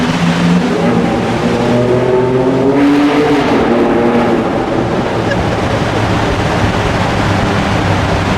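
A Ford Ranger Raptor fitted with a custom exhaust system makes a loud, close pull, engine note climbing and falling before settling into a steady, rough rumble.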